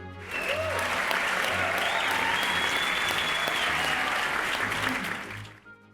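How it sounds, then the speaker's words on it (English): A crowd breaks into loud, sustained applause, clapping swelling quickly and holding steady for several seconds before tapering off. "Let us hear a big ol' round of applause."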